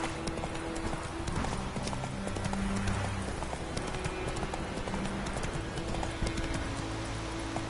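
Steady clip-clop of a horse's hooves at a gallop in The Witcher 3, rhythmic and continuous under ambient game sound with faint voice snippets.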